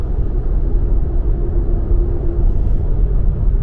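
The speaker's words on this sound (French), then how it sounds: "on teste le niveau sonore à l'intérieur de la voiture." Steady low road and wind rumble inside a Renault Espace 6 cruising at 110 km/h on a motorway, a continuous muted drone with a faint tonal hum and no talking.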